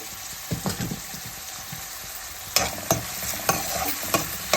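Salted mutton pieces fry and sizzle in a pan while being stirred, with a continuous hiss and several scraping, knocking stir strokes close by.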